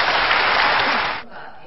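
Ruling-party lawmakers applaud during a presidential address in a parliamentary chamber, a dense burst of clapping that runs steadily for over a second before cutting off to a quieter room tone.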